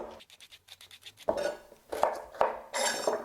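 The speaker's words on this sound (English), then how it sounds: "Just a rough chop." A knife roughly chops sliced white cabbage on a board: light taps first, then four loud, crunchy chops at irregular intervals, close by and with no talk.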